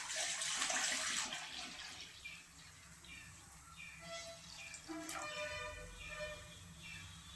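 Water splashes and trickles steadily as it is poured over cooked pearl millet, loudest at first and then settling into a quieter pour, with faint birdsong in the background.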